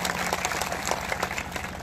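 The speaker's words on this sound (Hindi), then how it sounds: "जोरदार ताली बजा के स्वागत करिए" Audience members at a political gathering give a dense, continuous round of applause, clapping from a crowd that sounds moderately distant.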